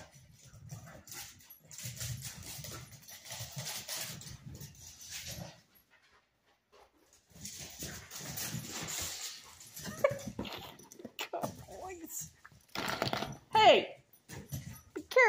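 Two dogs pant, whimper and jostle close by in a house while a person talks over them, with a few sharp yelps and scuffles toward the end.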